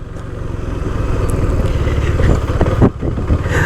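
A motorcycle engine revs hard past 5,000 RPM, a loud, close, rising roar that swells steadily and peaks sharply near the end before dropping slightly.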